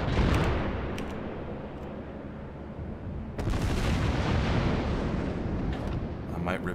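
Heavy battleship gun salvos boom in the World of Warships game, aboard the German battleship Tirpitz, a dense roaring barrage of blasts swelling again midway with rumbling tails, loud and close, with someone talking over the gunfire.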